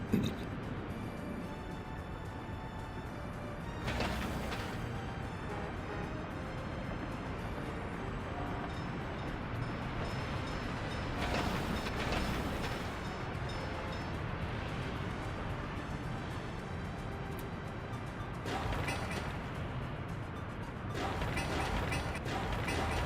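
Trains running in a city-building game on flatland with hills: a continuous rumbling, creaking mechanical clatter with recurring louder bursts, steady throughout and heard alone.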